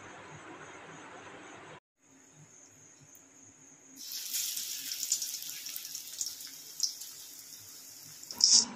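Dishes are washed under a running kitchen tap: a steady hiss of flowing water stops briefly, then returns louder with splashing and occasional clatter of utensils, close by and without talk.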